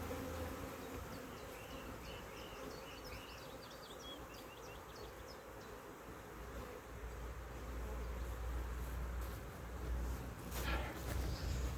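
Honeybees active across the frames of a hive brood box make a steady, soft, continuous buzz that swells slightly toward the end, heard close by with no talking.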